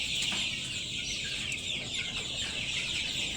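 Chickens at a poultry market in Gazipur, Bangladesh, where young birds are sold, make a steady, dense clucking chatter that fills the whole stretch with no voices over it.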